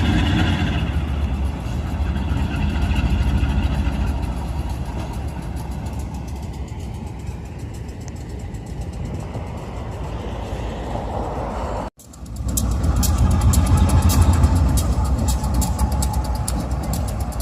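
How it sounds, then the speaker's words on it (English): A Lehigh Railway freight train rolls through the rail yard at Sayre, Pennsylvania, a loud continuous rumble of engines and wagons that is briefly interrupted near the end before the rolling noise resumes. "So there goes the Lehigh Railway, passing the tied down H77 power here in Sayre."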